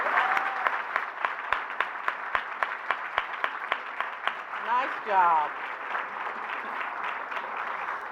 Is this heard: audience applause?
yes